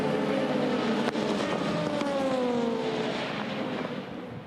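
Ferrari 499P Le Mans hypercar heard onboard during the 24 Hours of Le Mans, its engine holding a loud steady drone with rising and falling pitch sweeps and a sharp click, fading slightly at the end.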